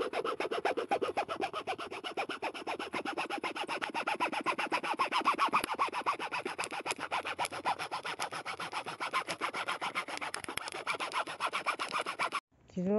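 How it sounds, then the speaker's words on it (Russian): A hacksaw cuts through a metal part of a garden cart during a wheel replacement: close, steady back-and-forth strokes run continuously for about twelve seconds, then stop abruptly. "Попробую пилкой по металлу попилить."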